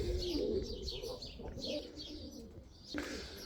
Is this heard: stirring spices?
no